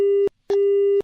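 Telephone busy tone after a call is cut off: two steady electronic beeps, the first short and the second longer, separated by a brief gap, loud and clear with no talking.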